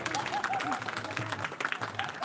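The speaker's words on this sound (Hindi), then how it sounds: "आप सब एक बार दिल खोलकर और हाथ खोलकर जोरदार ताली बजाएंगे" Audience applause at a village Ramayana Manas Gaan festival, scattered clapping from a crowd mixed with voices talking over it, moderately close and uneven in rhythm.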